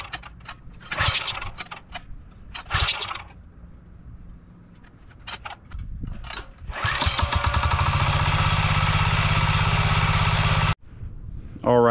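A Chinese 10 hp diesel engine mounted on a generator cart is cranked with a few scraping pulls and clicks, then catches and settles into a loud, steady chugging run before abruptly dropping off.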